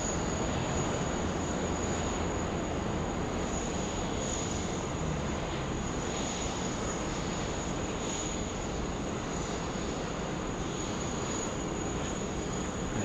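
Singapore Airlines freighter departing Sydney, a broad steady jet roar at moderate distance, even and sustained with a thin high whine above it and faint insect chirring in the background.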